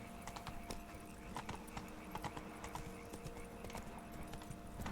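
Hooves of the horse Roach trotting in The Witcher 3: Blood and Wine, an even rhythmic clip-clop over a quiet game ambience, fairly faint and with no talk.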